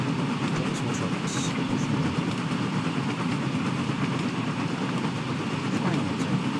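Continuous rumbling and rolling of a train on rails in a Thomas the Tank Engine video game, steady and fairly loud throughout with no pauses.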